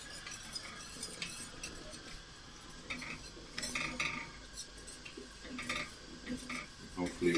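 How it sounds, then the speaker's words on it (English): A spoon stirs lemon curd in a pan over the heat, scraping and clinking against the metal in an irregular rhythm of soft, close taps, with a faint sizzle beneath. "Just keep the heat up on this and keep stirring."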